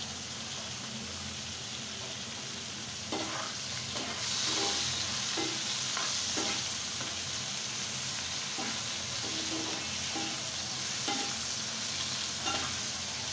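New potatoes frying in a pan: a steady soft sizzle and hiss throughout, with scattered scrapes and taps of a spatula stirring the pieces, close but moderate in level. No talk.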